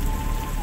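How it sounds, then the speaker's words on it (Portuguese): Steady rainfall patters densely and evenly throughout, a loud, close rain sound effect under a narrated story, with a faint tone held in the background. "um trovão se fez ouvir a quilômetros, veio a chuva."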